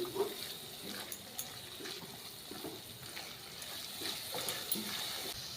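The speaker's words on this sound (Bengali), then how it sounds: "সেই পেস্টটা দিয়ে বাটি ধুয়ে একবারে জল দিয়ে দিলাম।" Water from rinsing a bowl of cashew, poppy seed, melon seed and yogurt paste is poured into the spiced masala in a pan, heard as a soft continuous splashing flow with faint clinks and no clear talk.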